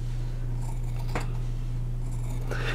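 Scissors snip through fabric seam allowances while sewing a women's button-down shirt, with a few faint, brief cuts over a steady low hum.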